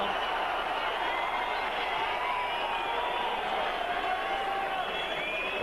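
Boxing arena crowd roaring continuously at the Wladimir Klitschko vs Chris Byrd fight in 2000, a dense steady wash of cheering and shouts with scattered whistles and no pause.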